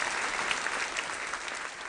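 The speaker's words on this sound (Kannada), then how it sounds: "ಚಪ್ಪಾಳೆ." A studio audience on a television game show bursts into steady, dense clapping that holds at full strength throughout, with no speech over it.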